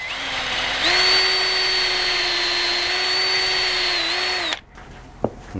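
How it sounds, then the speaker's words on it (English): A power drill with a sharp bit and no hammer action whines at a steady high pitch for several seconds while boring into stone, then stops abruptly, followed by a brief knock. "I'm using a sharp drill bit, no percussion, no hammer action on the drill"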